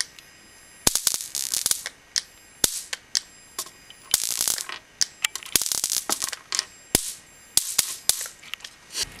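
An electric fly swatter arcing against metal screws gives rapid, sharp crackling snaps in irregular bursts, some single and some in quick clusters, loud and close.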